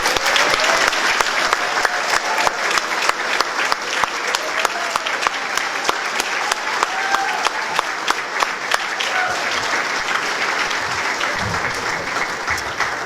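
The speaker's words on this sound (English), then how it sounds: "so they can receive a round of applause" Audience at a youth scholarship dinner applauds volunteer coaches in a sustained, dense round of clapping lasting the whole stretch, fairly loud and close, with a few voices murmuring underneath.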